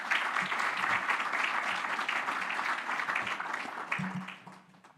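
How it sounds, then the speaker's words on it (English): Audience applause for a speaker at a tourism conference, steady dense clapping from a crowd that fades out near the end. "Please clap your hand for Eduardo."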